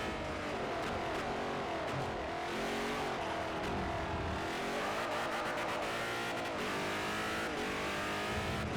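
Race car engine revving hard in second gear in Forza Motorsport 4 on PC, loud and sustained with rising and falling pitch, a hint of tyre squeal, no voices over it.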